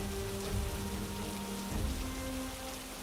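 Cartoon rain on a rainy day makes a steady, moderate hiss of falling drops, with a low hum underneath.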